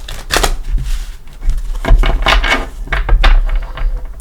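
A Tarot of Dreams deck is shuffled by hand, a series of close, loud riffling and tapping bursts in an uneven rhythm with brief pauses between.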